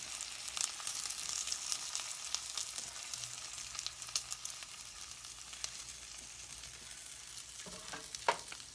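Bacon sizzling steadily in a pan for a bacon cheeseburger breakfast, a continuous dense crackle with scattered pops and a brief clatter near the end, no voices.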